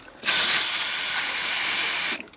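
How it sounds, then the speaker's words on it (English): Zinc primer sprays from an aerosol can in one steady, close hiss lasting about two seconds, starting and stopping abruptly, with no talking. "So I'm going to try spraying some out from a can and just putting it onto the Q-tip."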